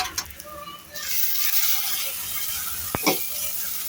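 Washed flattened rice is stirred in a pan, giving a soft sizzle and scraping that carries on steadily, with one sharp utensil clink partway through.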